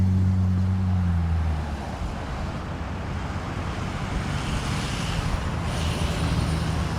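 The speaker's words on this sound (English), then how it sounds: "Palmer Police pulling up code 3 with his lights on." A Palmer Police car pulls up code 3 with its lights on, giving a steady low engine rumble and broad road noise that settles after an initial heavier hum, with no talking.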